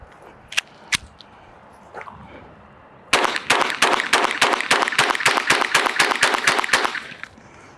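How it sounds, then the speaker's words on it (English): An FN 502 .22 Long Rifle pistol fires a few spaced shots, then a fast, even string of loud, sharp cracks lasting several seconds, close by and with no talk. "let's kick things off with the 502 22 long rifle"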